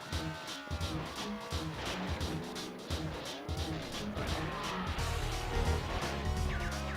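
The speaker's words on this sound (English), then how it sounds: "How fast this car can go?" A car racing with squealing, skidding tires in the vehicular combat video game Vigilante 8, a continuous engine roar with rising and falling screeches over a thick, loud game soundtrack.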